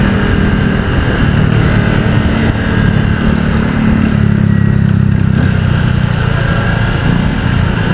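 A Honda scooter engine runs steadily throughout, a loud close low drone with a faint hint of revving and no talk over it.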